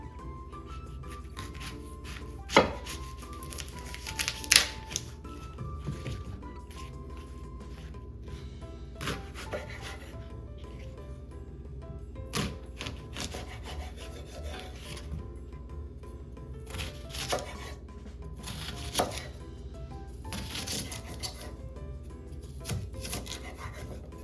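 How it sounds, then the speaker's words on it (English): An onion is chopped with a knife on a board, heard as irregular, sparse taps and knocks spread over a quiet kitchen background, a few of them louder and sharper than the rest. "So first, to prepare for our sauce, we're going to chop up our onion."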